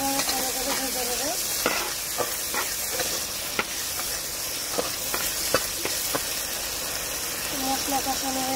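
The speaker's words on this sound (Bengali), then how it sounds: "মশলা আমি আবার ভালো করে ভেজে নেবো।" Spice masala with sour yogurt frying in a pan, a loud continuous sizzle under repeated clicking strokes of a spoon stirring against the pan, steady throughout, with no one speaking.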